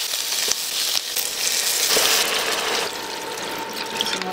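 Chorizo Bilbao sizzles loudly in a pan while pancit bato is being cooked, giving a bright, hissing crackle that eases off partway through.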